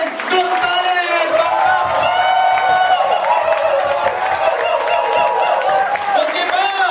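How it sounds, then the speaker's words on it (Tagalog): Loud, dense applause and cheering from an AIMGLOBAL event crowd welcome power speaker and training specialist Jurgen Gonzales to the stage. Whoops and shouts ride over continuous clapping, with voices mixed in throughout. "Milyong-milyong palakpak para kay power speaker, training specialist of AIMGLOBAL, Sir Jurgen Gonzales!"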